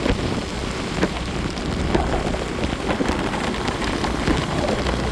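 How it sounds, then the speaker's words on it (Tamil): Heavy rain pours steadily onto a mountain road, making a dense, continuous hiss with scattered close drops and low rumbling underneath, and no voices. "மழைக்குள்ள ஒரு பயணம், மலையில் ஒரு பயணம்."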